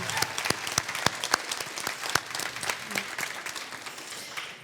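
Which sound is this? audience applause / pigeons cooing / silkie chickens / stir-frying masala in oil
audience applause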